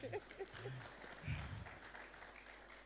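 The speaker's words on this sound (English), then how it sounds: "A big round of applause for the doctor, please." Audience applause for a doctor speaking at a national advertising conference, a steady wash of clapping heard from a distance and fairly faint, with a few louder bumps near the start.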